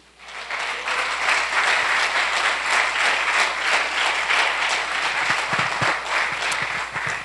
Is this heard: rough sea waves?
no